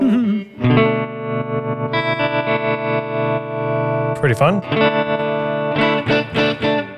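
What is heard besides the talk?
guitar tremolo pedal with rate sweep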